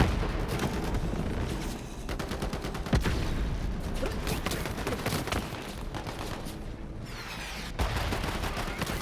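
Rapid gunfire in Borderlands 3 fills the scene with dense repeated shots and booming impacts, loud and continuous with a few sharper blasts standing out.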